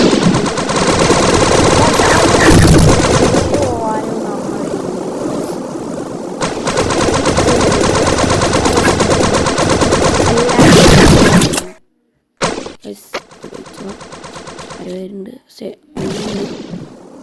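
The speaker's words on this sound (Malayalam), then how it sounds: "ഈ ഗണ്ണെടുത്തു. വെടി വെച്ച് പൊളിക്കുക." Sustained automatic gunfire in a shooting video game, dense rapid bursts filling the first twelve seconds, then scattered shots and short bursts after a brief silence, loud and close.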